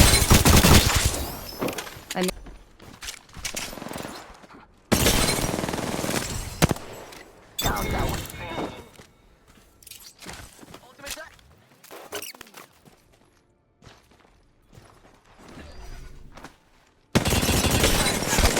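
Bursts of rapid gunfire from Apex Legends crackle in loud, dense volleys separated by short quieter gaps, with a voice speaking over parts of the action.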